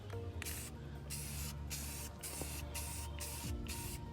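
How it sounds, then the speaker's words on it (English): Aerosol spray paint can hissing onto a car wing panel, a steady broadband spray with short pauses between bursts, close and fairly loud with no talking. "Now let's start spraying."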